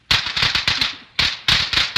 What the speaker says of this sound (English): Look, Penny, the new firecrackers.